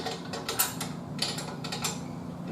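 Ratcheting 3/4 inch wrenches tighten the tie rods on a brass instrument's rotary valve cylinder, giving soft metallic clicks and ticks against a low steady hum, with a few brighter clinks at moderate distance.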